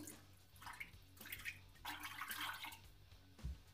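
A bar of vintage shaving soap is lifted out of a bowl of soaking water, bringing soft sloshing and trickling splashes, close and quiet, with a light knock at the end.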